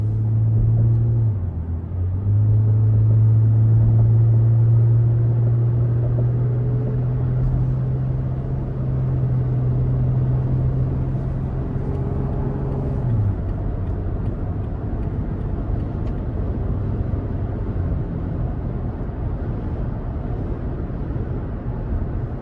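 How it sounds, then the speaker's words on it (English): Steady low engine drone of a 2023 Toyota Tacoma SR Access Cab with the 3.5 V6, heard from inside the cab as the throttle is applied, the pitch stepping up and holding before easing back down. "So we'll give it a little throttle here."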